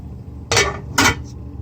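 A lid set onto a pot of boiling water while cooking asparagus, giving two short metallic clanks about half a second apart, close and clear with no talking.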